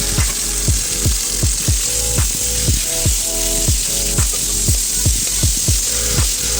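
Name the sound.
marinated chicken pieces sizzling as they are put into hot oil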